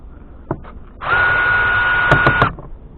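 A power driver whirring for about a second and a half while backing out a Phillips bolt on a 2004 Suzuki XL7 door panel, steady high whine, close and loud, with a few clicks around it.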